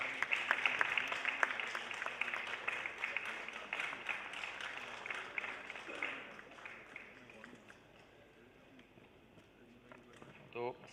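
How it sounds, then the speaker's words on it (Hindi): Audience applause at an inaugural session of a literature festival in Delhi, many hands clapping loudly at first and then thinning and fading over about eleven seconds, with a brief final burst at the end. "तालियां बजाएं दोस्तों।"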